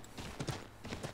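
Rapid hoof clip-clops from a galloping horse in the video game Assassin's Creed 3, a quick run of hollow knocks repeating in a galloping rhythm, close and fairly faint.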